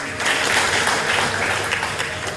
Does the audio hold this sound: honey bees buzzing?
no